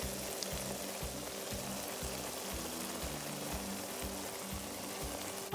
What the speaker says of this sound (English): As I put all the egusi in